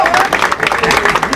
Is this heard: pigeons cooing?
no